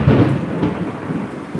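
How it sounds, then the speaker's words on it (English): Heavy rain pours down outside with a dense, steady hiss and a deep thunder rumble rolling underneath, loud and close, with no voices. "It's literally raining like this much into the spot I would usually have sit underneath the roof"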